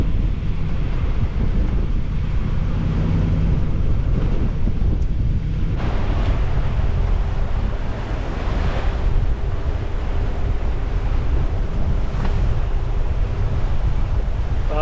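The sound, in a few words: wind gusts and waves while sailing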